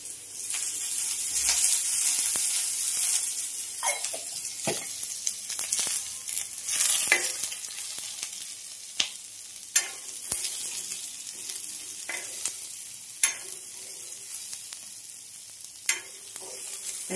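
Garlic sizzles and crackles steadily in hot oil while being stirred, fried until pinkish, with occasional sharp scrapes and clicks of the spoon over a continuous close frying hiss.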